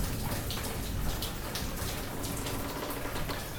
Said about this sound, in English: I love the rain, but I hate it too.